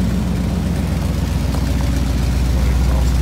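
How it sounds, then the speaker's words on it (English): A Ford Thunderbird engine with a small exhaust leak runs steadily during a drive, giving a constant, loud, low rumble with a faint ticking texture and no pauses. "It's got that little exhaust leak"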